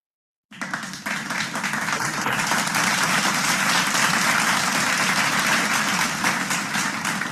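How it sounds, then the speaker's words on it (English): Audience applause at a healthcare and medical technology lecture, a full dense round of clapping that starts abruptly and holds steady and loud for several seconds, with no talking. "let's all of us have a good round of applause for sir"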